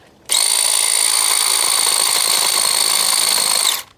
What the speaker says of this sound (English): It's a small handheld chainsaw.